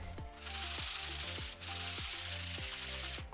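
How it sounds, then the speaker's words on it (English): Sandpaper of 220 grit rubs back and forth over a wooden round in steady strokes, roughly five passes at close range, with no talking. "So I'm just grabbing some 220 grit sandpaper and then just sanding over this really well."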